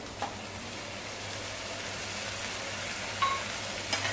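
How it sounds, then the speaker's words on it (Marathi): Chopped tomatoes sauté with onion and spiced potato masala over medium heat, giving a steady, close sizzle with a few faint stirring scrapes and no talk. "आता आपण बारीक चिरलेलं ही टोमॅटो घालूया"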